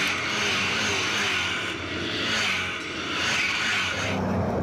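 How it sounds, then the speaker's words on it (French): V8 race cars at high speed on a short oval track, a continuous loud engine roar that swells and fades in waves as the cars sweep past, with no voices. "Profitons du bruit de ces voitures V8 qui atteignent des vitesses élevées sur ce short track."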